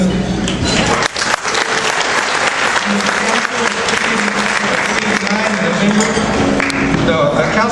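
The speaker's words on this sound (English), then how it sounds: "Please give them a round of applause." Sustained audience applause greets the honored guests at a LULAC 50th anniversary reception, loud dense clapping running throughout with some crowd voices mixed in.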